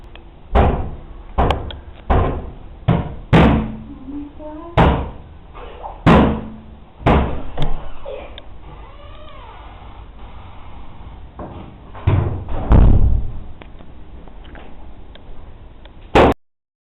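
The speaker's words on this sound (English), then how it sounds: "The drawers started to beat." Drawers bang and slam repeatedly in a run of sharp, loud knocks, some in quick bursts and others spaced apart, with a short creaking wobble between them.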